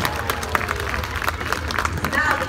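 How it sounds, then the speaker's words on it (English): An audience at a sea lion show at a safari park claps steadily, a crowd of scattered hands mixed with voices and a presenter talking. "Give them both a big round of applause."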